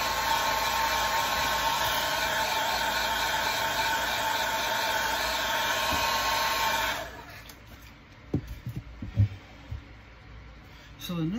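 A hair dryer or heat gun blows steadily at close range to dry paint on a bass fishing lure, a loud, constant whirring rush that cuts off after about seven seconds, leaving quiet handling clicks and knocks.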